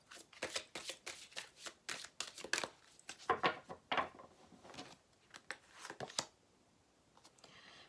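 Tarot cards shuffled and drawn by hand, a close, quiet run of crisp flicks and riffling bursts in quick irregular clusters, tapering off into stillness at the end.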